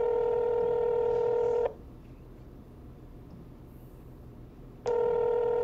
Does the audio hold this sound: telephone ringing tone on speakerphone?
yes